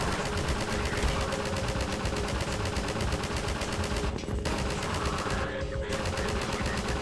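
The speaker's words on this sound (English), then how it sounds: "I've got another highly inaccurate Combine automatic rifle sequence" Sustained automatic rifle fire from Combine soldiers in Half-Life 2 Episode 2, a dense, continuous rattle of rapid shots filling the whole stretch at steady loudness, with only a couple of short thinning moments near the end.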